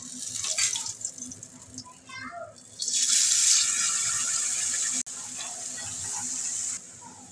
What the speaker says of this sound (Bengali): জারটা ধুয়ে আমি দিয়ে দিচ্ছি।